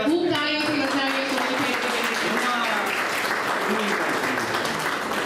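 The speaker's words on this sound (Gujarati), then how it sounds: "1250 આપણે ખૂબ તાળીઓથી વધાવીએ" An audience applauds at an oath-taking ceremony of a Giants Group chapter in Sihor, a dense, steady wash of clapping while a voice talks over it near the start.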